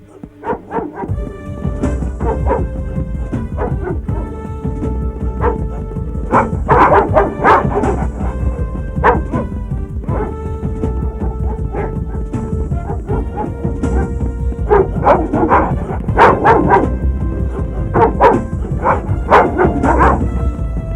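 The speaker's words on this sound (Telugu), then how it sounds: "కుక్కలు వదలండి రా." Several dogs barking and yipping loudly and repeatedly, with bursts of excited barks and whimpers in a tense outdoor search scene from a Telugu film, continuous throughout with dense layered barking.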